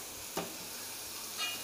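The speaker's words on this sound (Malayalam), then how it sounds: "വെളിച്ചെണ്ണ ഒഴിച്ചിട്ട് വേണം നന്നായിട്ട് വറുത്തെടുക്കാൻ" Grated coconut fries in coconut oil with curry leaves in a pan for onion theeyal, giving a faint steady sizzle with a couple of brief stirring scrapes.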